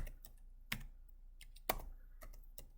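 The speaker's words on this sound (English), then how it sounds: "So I'll type my X's. I'll type my probabilities." Fingers tap a computer keyboard while numbers go into a spreadsheet, as quiet, irregular close clicks with two sharper keystrokes.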